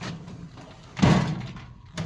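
A tool chest drawer slides open in one short rolling rush midway, set against low room noise, followed by a brief softer clatter at the end.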